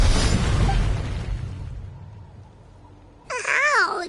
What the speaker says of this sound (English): You were all caught in the shockwave of the explosion.